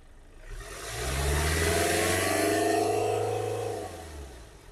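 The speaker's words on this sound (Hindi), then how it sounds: "अब 3000 RPM में उठाओ।" A diesel car engine, being checked for its diesel particulate filter, revs up from idle to around 3000 RPM, holds a steady, loud drone, then falls back, close by with no talk.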